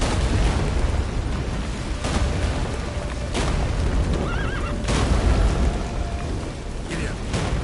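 Roach the horse whinnies in The Witcher 3, a shrill neigh rising over pounding hooves and booming bursts during a loud gallop.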